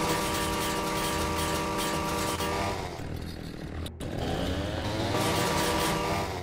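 A video-game chainsaw revs loudly and continuously with a buzzing, engine-like drone, dipping briefly in pitch midway before roaring back up at full strength.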